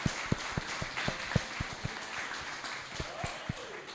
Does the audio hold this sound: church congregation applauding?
yes